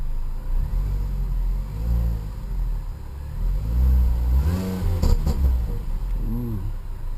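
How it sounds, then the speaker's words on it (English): Stock exhaust of a 2006 Mini Cooper S, heard from inside the cabin, rises and falls through several revs, a muffled mid-pitched engine drone swelling louder near the end with no talk. "Here's a little bit of an exhaust clip from the inside of the cabin."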